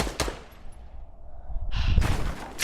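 A minigun firing in Fortnite, heard as loud rapid bursts that sputter at the start and swell into a sustained roar of fire toward the end.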